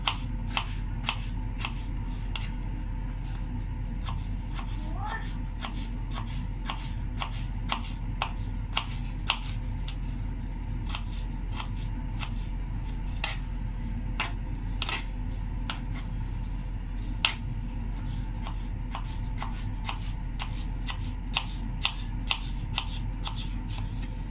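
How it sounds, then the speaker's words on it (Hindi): A knife cuts potatoes into thin, long strips on a board. Its dense run of sharp, quick ticks and taps keeps going at an uneven pace over a low steady hum. "ऐसे ही आप आलू भी बारीक बारीक लंबाई में काटें।"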